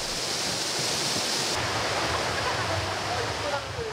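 Steady roar of a waterfall at Juwangsan mountain, a continuous broadband rush of falling water with no pauses, loud and even throughout.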